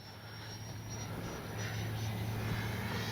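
An FMS Integral 80mm RC jet flying at half throttle, its steady airy roar with a thin high whine and a low hum building slightly in loudness, heard at a distance outdoors.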